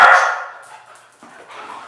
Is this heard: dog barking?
yes